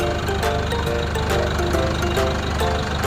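A 2018 Isuzu D-Max Hi-Lander Spacecab pickup's 1.9-litre engine idles steadily at close range, a smooth continuous rumble with faint periodic ticking and no speech.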